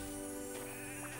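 Sheep bleat in the video game Odin Sphere, a short wavering cry that rises out of dense, loud game music and effects, with no voice over it.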